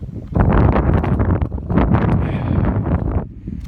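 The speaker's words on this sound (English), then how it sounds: "the wind is too bad" Strong wind buffets the microphone in a farm yard near a barn, a loud continuous roar with gusts rising and falling throughout, no voices.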